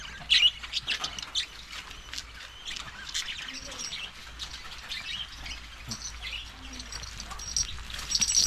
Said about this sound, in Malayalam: കിളികളെല്ലാം പേടിച്ച് ഇവിടെ ഇരിക്കുന്നത്.